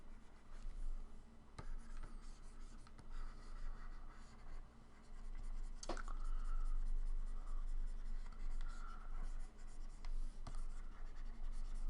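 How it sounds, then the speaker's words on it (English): A pen sketches steadily on paper while a paladin is being drawn, producing close, continuous scratchy strokes with occasional sharper taps and flicks and no voices. "So yeah, I use pens and what have you. It's nice, quick sketch."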